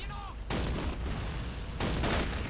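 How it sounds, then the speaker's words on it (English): A 25 mm cannon firing in the Men of War: Assault Squad 2 war game, two heavy booming bursts with rumbling decay, loud and close, with a brief voice at the start. "we've now got 25 millimeters shooting at us"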